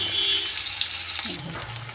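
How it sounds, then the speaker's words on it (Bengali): Onions sizzle in a pan with boiled chowmein noodles, a constant close frying hiss with light stirring scrapes over about two seconds. "দিয়ে দিলাম পেঁয়াজ কালারটা চেঞ্জ হওয়ার পরে পেঁয়াজটা ভাজা ভাজা হয়ে গেলে দিয়ে দিব একটা ডিম"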